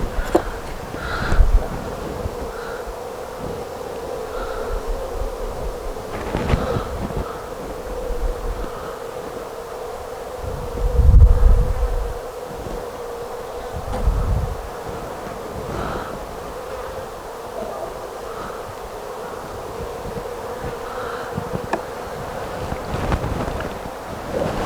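A new swarm of honeybees hums steadily in a freshly occupied hive, a continuous close buzz with wind rumbling against the microphone and occasional louder passes of individual bees.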